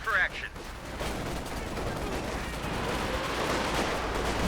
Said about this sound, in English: Here comes the Katyusha though.